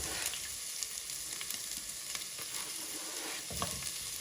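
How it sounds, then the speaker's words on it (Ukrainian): Onion and garlic fry in hot oil in a pan, giving a steady close sizzle with occasional stirring scrapes and crackles, with no talking. "Першими буду обсмажувати цибулю та часник."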